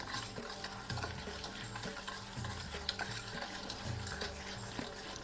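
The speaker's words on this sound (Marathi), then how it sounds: "हे सारखं असं 5 मिनिट आपण फेटून घेणार आहोत." Nankhatai dough is beaten by hand in a bowl, making a steady rhythmic scraping and whisking that repeats several times a second, close and soft, with no voice.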